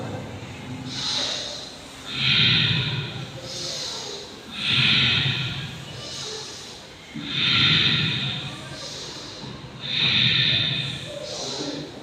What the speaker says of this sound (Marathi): श्वास घ्या सोडा